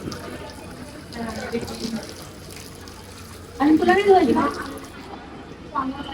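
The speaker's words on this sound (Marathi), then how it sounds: "हे काय पाणी उडायला लागले अंगावरती" Water splashing onto people at an outdoor spot, a gush of spraying water rising in the middle amid voices, with people talking over it.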